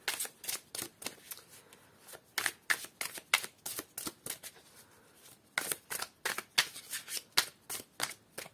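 Oracle cards are shuffled close up in repeated crisp riffling bursts, an even rhythm of sharp card slaps with brief pauses between runs and no voices.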